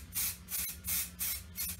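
Spray paint hisses from a can in a kitchen in bursts of roughly a third of a second, five bright airy puffs close to the microphone over a low steady hum.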